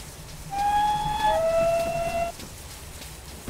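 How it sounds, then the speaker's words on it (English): A two-tone steam whistle from a train simulator, drawn from the Victory Works 4200 pack, gives one clear blast of about two seconds, the first note stepping down to the second, over quiet background rumble. "Two-tone whistle is recycled from the 4200 pack, I believe it is, from Victory Works"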